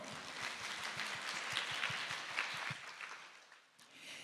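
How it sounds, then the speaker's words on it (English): An audience at an AI regulation conference applauds, a faint, steady patter of clapping that fades slightly toward the end. "Please give another round of applause."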